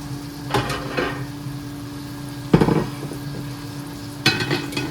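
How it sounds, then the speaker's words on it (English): Green beans hit a hot pan with a few bursts of sizzling and scraping, separated by quieter stretches over a steady hum. "We're just gonna dump the green beans right in, sizzle"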